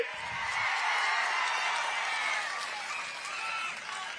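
A crowd at a political rally in Anantapur, where TDP president Chandrababu Naidu is addressing the gathering, breaks into sustained applause, a dense wash of clapping with some scattered cheers that swells, dips slightly and carries on to the end.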